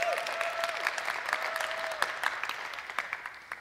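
Congregation in a church service clapping together, a steady dense patter of many hands lasting a few seconds, with a faint sustained tone fading in the background.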